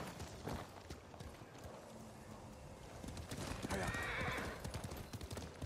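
A horse clip-clops and whinnies in the video game Ghost of Tsushima, its hooves beating rhythmically and a neigh rising near the end, partly under someone speaking.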